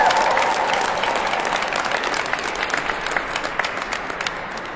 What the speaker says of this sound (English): Everybody hand clap for Noella.